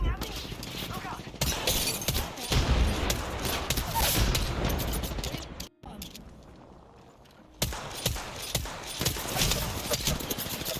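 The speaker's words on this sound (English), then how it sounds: "They're shooting at me." Gunfire in Apex Legends crackles in dense, rapid bursts that fill most of the stretch, dropping into a brief quieter lull midway before the shooting resumes.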